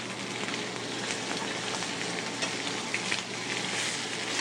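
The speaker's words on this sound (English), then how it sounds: "Now the squab is seared. Skin side down first." Squab searing skin side down in a hot pan gives a loud, steady sizzle with scattered crackles and pops throughout, with no talking.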